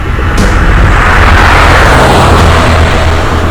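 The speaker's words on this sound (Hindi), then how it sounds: "मुझे लगता है कि ये धमाका भी जरूर करेगा।" Loud, heavy explosion in a forest as a TV crime drama effect: a sudden blast followed by a sustained, booming rumble filling the whole clip.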